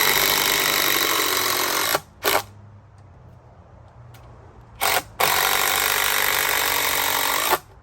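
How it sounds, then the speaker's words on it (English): Power drill starting screws into wood boards while building a portable chicken perch, two long loud bursts of whirring bracketing short blips and a quieter gap. "So I'm just going to start these screws a little bit so there'll be a little easier"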